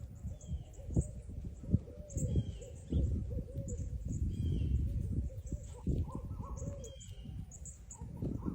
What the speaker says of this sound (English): the hoot owls are hooting